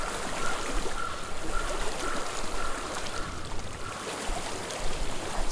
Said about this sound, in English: I'm supposed to listen for the water